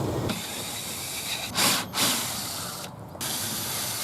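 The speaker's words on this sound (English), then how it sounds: "Now I'm going to take out the bolts attaching this piece of wood" Bolts are worked out of a wooden gate with a tool, giving a steady close ratcheting, grinding hiss interrupted by a couple of louder bursts and a brief pause.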